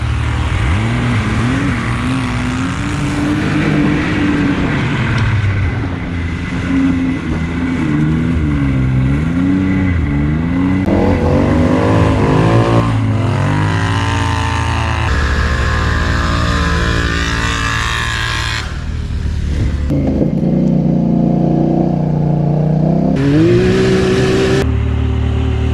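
A turbocharged car engine revs hard and repeatedly, pitch climbing and dropping through gear changes, loud and close with brief drops between pulls.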